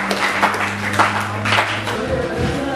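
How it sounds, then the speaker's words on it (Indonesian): Brief scattered applause in a classroom during a teacher competency assessment lesson, light clapping from a small group of students over a steady hum and murmur, fading after a couple of seconds. "Kita kasih aplaus."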